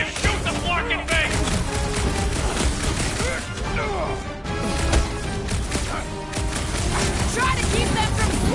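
Dense combat in the Marvel's Guardians of the Galaxy video game, played on PS5, with blaster fire, crashes and impacts piling up continuously. Characters shout over the sustained loud battle noise.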